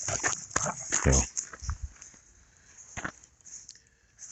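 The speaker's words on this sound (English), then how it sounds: "the dogs sound like horses on this" Dogs' paws clomp on a thick two-inch layer of ice, a few irregular hard, hoof-like thuds and scrapes up close, with someone talking over some of them.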